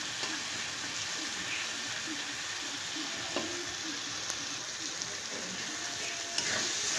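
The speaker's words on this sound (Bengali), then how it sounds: "খুব ভালো করে ভাজা ভাজা করে নেব।" Dried fish (shutki) frying in a pan while being stirred, a bright continuous sizzle with occasional scraping clicks, close and steady, no voices.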